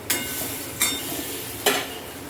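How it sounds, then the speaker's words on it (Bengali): Spices for potato paneer sautéed in oil, three brisk scraping stirs of a spoon against the pan over a continuous close sizzle, no voices. "ভালো করে কষিয়ে নেব"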